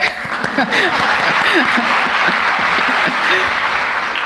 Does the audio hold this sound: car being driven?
no